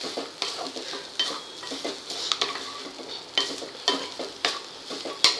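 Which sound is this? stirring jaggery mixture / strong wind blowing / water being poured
stirring jaggery mixture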